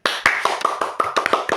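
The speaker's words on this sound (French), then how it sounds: "On peut tous applaudir." Small group of people clapping in a short burst of scattered, uneven claps, close and fairly loud, with no talk over it.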